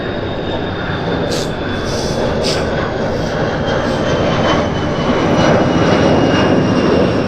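Loud, steady engine drone from the BBMF aircraft PA 474 carries over a broad roar at an airport, sustained and rising slightly toward the end.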